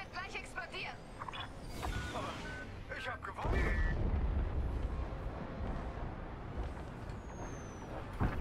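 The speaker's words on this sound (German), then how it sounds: "und jetzt explodiert das ganze Schiff" A ship blowing up in the Star Wars Squadrons space combat game: a deep, roaring rumble swells into a sustained heavy blast with crackling debris noise, while a voice speaks over it.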